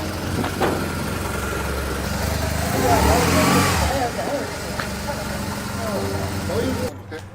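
A BMW motorcycle engine fires up on the first try and settles into a steady idle in Mongolia, close and rumbling, with people talking over it.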